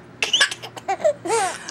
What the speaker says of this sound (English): Whoa, bad cough.